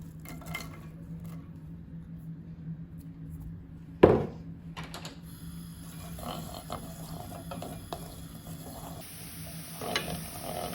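Chopped onion drops into olive oil in a frying pan with a sharp clatter, then sizzles steadily and is stirred, with occasional utensil scrapes against the pan.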